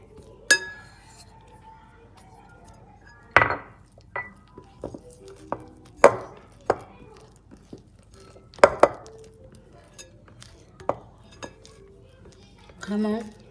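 Galette des rois mixtures being stirred together in a bowl, with scattered clinks and knocks of a utensil against the bowl and spaced pauses between strokes.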